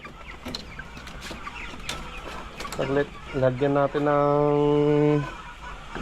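Two-month-old pet chickens in a coop, close clucking and drawn-out calls building toward the end, with a person talking nearby.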